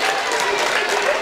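Basketball crowd at a high school game between Cheverus and Oxford Hills roars and applauds right after an offensive foul call, a dense, steady wash of cheering and clapping from the gym stands.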